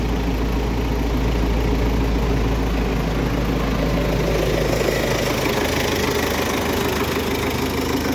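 A 2019 MTZ-1025 tractor engine idles steadily and loudly nearby, a constant low rumble with a faint knocking rhythm throughout.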